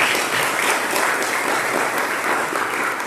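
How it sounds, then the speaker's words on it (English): An audience claps for the sponsors at a South Florida healthcare education event on green hospitals, a steady, dense wash of applause filling the room without a break. "So again, a round of applause for them."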